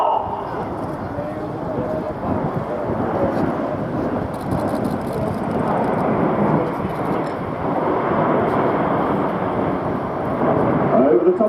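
An Avro Lancaster bomber flies a roll at an air display, its piston engines giving a broad, rumbling drone that holds steady and swells slightly toward the end, heard from a distance under a commentator's voice.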